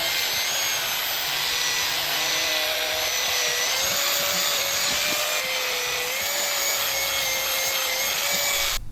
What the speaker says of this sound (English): I'll just give it a hit with the grinder, angle grinder, and it should slide in and out a lot better